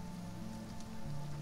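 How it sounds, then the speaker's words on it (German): Rain falls constantly in the survival game Sheltered, a soft, even patter on surfaces heard faintly and alone without let-up. "Es regnet immer noch, es regnet einfach ununterbrochen."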